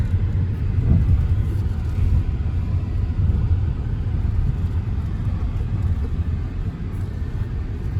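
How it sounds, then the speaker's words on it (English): A car drives along a bumpy road between Lime Tree Farm and Mavis Bank, heard from inside as a loud, steady low rumble with faint jolts and no talking. "And this is the 4th time we are doing this bumpy ride."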